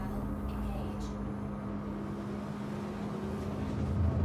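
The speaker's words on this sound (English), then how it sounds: "that's just the whine of the engines" Nomad spaceship engines idling in the video game Star Citizen, making a steady, even low whine and hum that holds without change while voices talk faintly over it.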